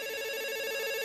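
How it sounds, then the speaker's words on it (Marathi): A phone rings steadily in a comedy sketch, its bright electronic tone continuous and fairly close, with no one speaking over it. "Phone वाजतोय कधीचा phone."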